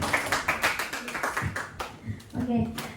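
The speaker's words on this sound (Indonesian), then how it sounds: "kita tepuk tangan untuk Pak Rudi ya" Clapping for Pak Rudi at a teachers' training session, a few uneven bursts of hand claps mixed with ongoing talk and murmuring voices.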